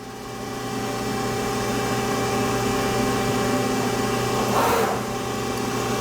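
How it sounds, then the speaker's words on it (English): A back gauge on an RMT B-SMART 12-250 press brake drives inward with a steady mechanical whir and hum, fairly loud and continuous, with a brief brighter surge near the end of the movement. "Actually, I'm going to move my back gauge in."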